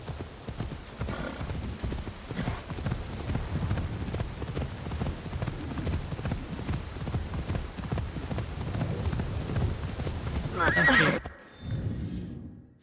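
Video game horse hooves clip-clop in a steady rhythm over continuous game ambience, with a neigh near the end before the sound cuts off; a voice briefly speaks.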